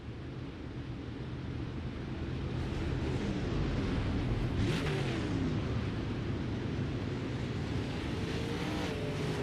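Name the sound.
dirt late model race cars racing on track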